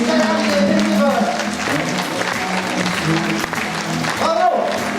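Applause from an audience at a volunteers' day gathering for volunteers and staff, a steady patter of hands mixed with crowd murmur and some voices, sustained throughout.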